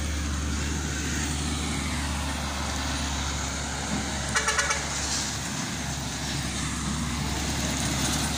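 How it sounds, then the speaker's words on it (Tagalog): Continuous road traffic rumbles past on the highway beside a roadside cafe in Tuba, Benguet, with a steady wash of passing cars and trucks and a few brief horn-like toots midway. "Igid lang ti highway dito, nasa gilid tayo ng highway."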